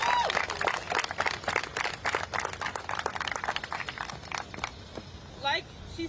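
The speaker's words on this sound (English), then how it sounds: "So everyone give a round of applause for our next speaker." Applause from a student protest crowd in Washington, D.C., welcoming the next speaker: a dense burst of clapping that fades toward the end, with a few voices underneath.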